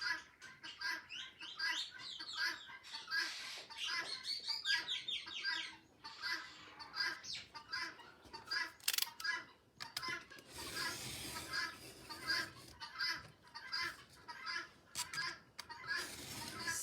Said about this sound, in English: but the birds have decided, guinea fowl have decided that it's time to be noisy